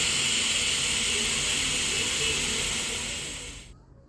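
A pressure cooker of chicken stew with winter vegetables lets off its whistle: a loud, steady, close rushing steam hiss that holds for several seconds, then fades and cuts off abruptly.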